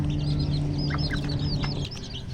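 Hens clucking in an outdoor free-range pen, several short overlapping clucks and calls close by over a steady low hum, with no talking.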